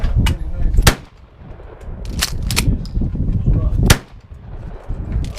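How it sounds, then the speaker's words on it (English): A 12 gauge pump action shotgun fired at a shooting range, several loud, sharp blasts spaced unevenly over a few seconds, with faint voices and range noise between shots. "This is a 12 gauge pump action shotgun."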